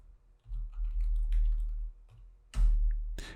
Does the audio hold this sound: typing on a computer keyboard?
yes